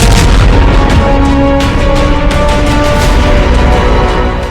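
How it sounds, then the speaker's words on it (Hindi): A missile explosion at a Russian weapons depot sets off a deep, continuous, heavy roar of booming blasts, loud and sustained throughout with no voices. "मिसाइल धमाके के बाद हथियार डिपो पर रखे बारूद में लगी आग से हाहाकार मच गया।"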